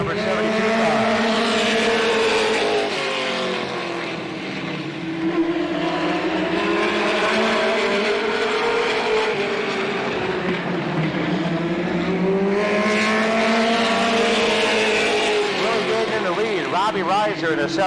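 Late model race cars roar around Slinger Speedway during a Trophy Dash, their engines rising and falling in long sweeping waves as the pack passes, loud and continuous throughout while an announcer calls the race over the track noise.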